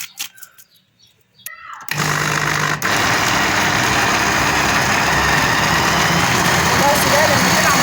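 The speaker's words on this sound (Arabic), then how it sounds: "واحنا بنضربها في الخلاط" A kitchen blender whirs to life after a couple of seconds of quiet handling, then runs continuously and loudly, churning macaroni with milk, ghee and vanilla, with a faint voice underneath.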